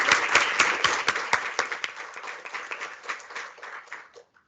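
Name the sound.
audience applause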